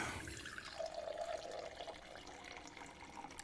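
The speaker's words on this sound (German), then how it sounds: "Hört sich an, als ob entweder jemand ein Bier eingießt" Water pouring in the video game We Harvest Shadows, a steady liquid fill with a brief bubbling stretch early on, moderately loud and continuous with no talking.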